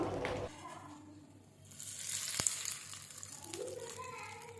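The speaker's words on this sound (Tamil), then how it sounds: "இப்போ நம்ம தாளித்ததை எடுத்து நம்ம சட்னியில் சேர்த்துடலாம்" Urad dal, dried chilies and curry leaves sizzle in hot oil for tempering radish chutney, a faint, soft frying hiss that breaks off briefly and resumes alongside a few light kitchen clinks.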